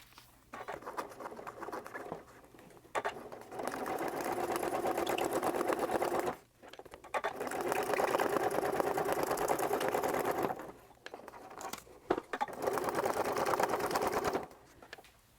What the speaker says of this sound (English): I'm going to finish the rest of my free motion stitching on the background.